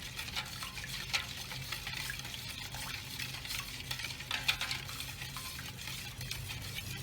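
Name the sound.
stirring choreg bread dough mixture by hand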